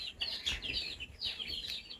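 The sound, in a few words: chickens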